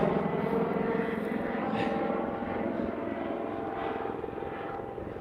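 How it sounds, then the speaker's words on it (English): Loud, continuous drone of a large helicopter passing overhead above an outdoor trail, a steady broadband roar that fills the whole stretch and fades only slightly toward the end. "a big chopper flying over me. It's loud."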